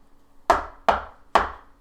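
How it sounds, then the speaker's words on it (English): Three forceful, evenly spaced knocks on a door, each a sharp, loud thud that decays quickly, heard alone without talking. "forceful knock."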